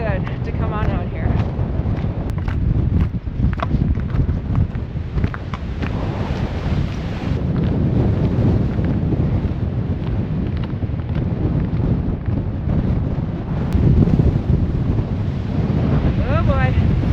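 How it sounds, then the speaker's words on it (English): Strong wind gusts sweep across a frozen mountain lake in winter, a loud steady roar buffeting the microphone with surging peaks. "the wind gusts, the high ones, are kind of sliding me back"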